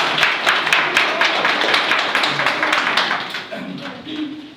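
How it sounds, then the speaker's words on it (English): An audience applauds guests at a Thanksgiving prayer gathering, with steady, dense clapping that slowly thins out toward the end and some voices mixed in. "please give them a big round of applause"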